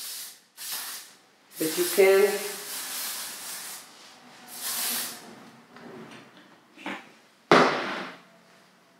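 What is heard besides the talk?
spraying coat while grooming standard poodle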